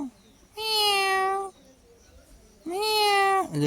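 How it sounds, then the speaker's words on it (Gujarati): A cat meows twice, each a long, clear, close-up wail separated by a short pause. "અહીંયામાં બિલાડી અત્યારે બેઠી છે"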